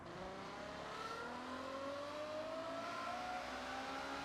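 A Ferrari V12 engine in the Forza Horizon racing game pulls hard and steadily, its strong, smooth whine rising gradually in pitch with no break.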